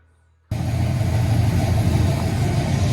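A 1981 Oldsmobile Delta 88 engine idling steadily and close by, a low, continuous rumble that kicks in abruptly after a brief quiet start and holds an even tone.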